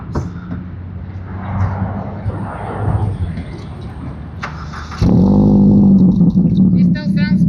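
A Ford Figo with a new muffler is given a few revs, a loud burst of engine revving with popping exhaust crackles following a quieter stretch of talk and idle.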